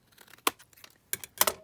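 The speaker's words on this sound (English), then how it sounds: "I'm just going to cut this one down here, height wise." Paper card cut from a 12 x 12 sheet, three or four short crisp snips and rustles, close and quiet, with a faint rustle between them.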